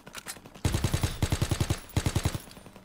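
Automatic gunfire in the Call of Duty online mode, firing in three quick rhythmic bursts of loud, closely spaced shots after a brief quieter lead-in.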